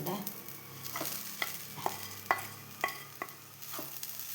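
A jaggery mixture for a sweet being stirred in a pan, heard as a quiet bubbling sizzle punctuated by regular scraping and tapping strokes of a spoon, about two per second, close and faint.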